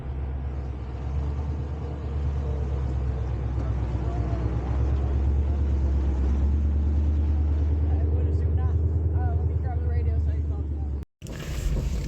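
A blown Mitsubishi Evo 8 engine runs rough, a loud, close, low rumbling drone with uneven pulsing that holds steady for about eleven seconds before cutting out abruptly.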